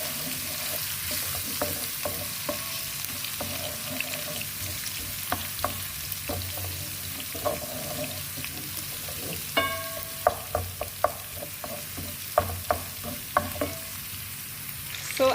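Minced ginger, garlic and chili fry in a pan for a beans curry, giving a steady close sizzle broken by scattered scraping clicks as the mixture is stirred; no one speaks.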